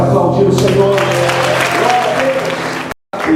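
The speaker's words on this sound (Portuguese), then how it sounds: "Você pode aplaudir o Senhor." A church congregation applauds during a Portuguese-language worship service. The clapping is loud and sustained, with a voice and music underneath, and it cuts out briefly near the end.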